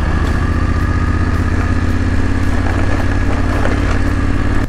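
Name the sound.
BMW F750 GS motorcycle riding in Enduro mode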